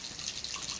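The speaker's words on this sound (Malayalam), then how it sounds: "ആ ടാപ്പ് ഓഫ് ചെയ്യൂ. വെള്ളം പോണു." Water runs steadily from a tap into a sink while a child brushes teeth, a continuous close hiss for the whole moment.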